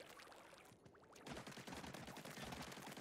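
Bombs are shot in rapid succession in Splatoon 3 on Nintendo Switch, a dense stream of splattering bursts that grows louder partway through, with no talk.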